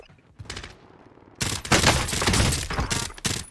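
Rapid gunfire bursts from a video game, dense overlapping automatic shots that start after a short quieter lead-in and continue loudly in near-continuous volleys.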